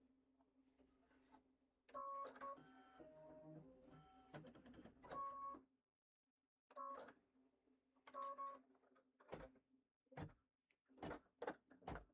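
An embroidery machine stitches out a July pillow wrap, its needle running in bursts of rapid mechanical clatter with brief pauses and a short stop near the middle, then resuming in choppy spurts close by.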